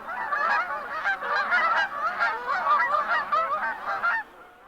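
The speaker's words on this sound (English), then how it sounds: "Honking flocks of Canada geese" Canada geese honking in a flock, a dense overlapping chorus of loud, repeated nasal calls that carries on steadily before cutting off, leaving a faint background.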